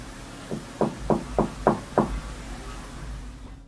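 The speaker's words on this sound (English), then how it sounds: "The knocking sounds polite yet urgent, definitely human." Six firm knocks land on a painted-over door in a quick, evenly spaced run, close and clear, with quiet before and after.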